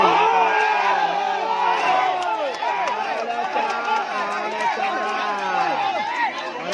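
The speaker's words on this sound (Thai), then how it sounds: "ได้ยินเสียงเชียร์ก็น่าจะรู้นะ เจ้าสนามนะเสียงปรบมือคือเสียงกำลังใจนะครับ" A crowd at a sepak takraw match yells and cheers energetically, many overlapping voices and whoops rising and falling continuously, with some clapping mixed in and commentary talk over it.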